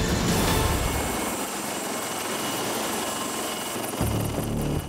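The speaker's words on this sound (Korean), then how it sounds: "헬기 착륙." A military maritime patrol helicopter landing on a navy ship's deck at sea, its engine and rotor whine loud and steady, with rhythmic low blade chop and a sharper burst of noise near the end.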